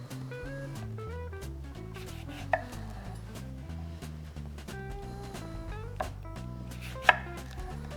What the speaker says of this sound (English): So we're gonna keep slicing because I certainly need more than that.